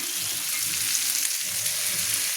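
Chopped cabbage hisses and crackles as it fries in hot spiced oil, with a steady close sizzle and soft stirring scrapes underneath.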